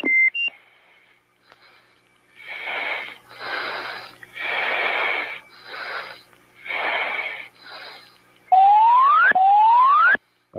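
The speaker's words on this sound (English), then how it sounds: "the deedle is the cautions that are coming up associated with low fuel" F/A-18 Hornet cockpit low fuel caution tones: a repeated electronic warble in evenly spaced bursts, then two loud rising sweeping tones near the end, with silence between.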